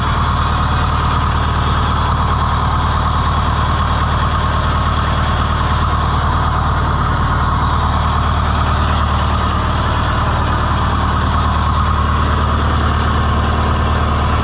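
An Oliver 1450 tractor engine idles steadily and close by, a loud continuous low rumble with no change in revs throughout.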